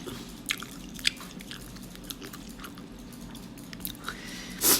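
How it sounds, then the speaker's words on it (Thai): Close-up chewing and slurping of Thai pork noodle soup with meatballs, soft wet bites and squishes at an irregular pace, with a louder burst near the end. "มาค่ะกินก๋วยเตี๋ยวน้ำกันอืม แซ่บ"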